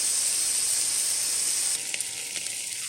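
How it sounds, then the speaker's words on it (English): A homemade sausage ring browning in a hot pan, a loud, steady sizzle with a bright hiss that drops slightly partway through and continues with faint crackling and a thin whistling tone. "I'm going to go ahead and brown it a little bit on both sides"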